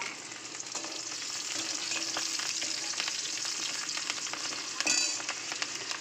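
Chopped garlic and slit green chilli fry in hot oil for a mushroom chicken dish, a steady close sizzle with light stirring clicks and a brief louder flare near the end.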